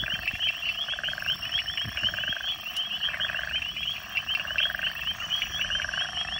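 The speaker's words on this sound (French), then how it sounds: "plein de sortes de grenouilles." A chorus of many frogs of various kinds calls steadily from a South African wetland, dense overlapping croaks and trills, continuous and fairly loud with no talk.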